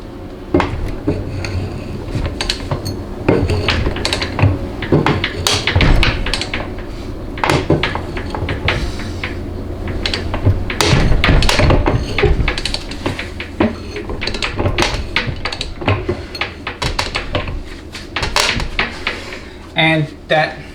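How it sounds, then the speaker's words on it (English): Sharp, irregular cracks and clatters from a piece of wood under a Ford 6R140 transmission case during a teardown, with a ratchet and socket at work. The snaps come close and loud in uneven bursts, and someone talks over them throughout. "that cracking you're hearing is that piece of wood there"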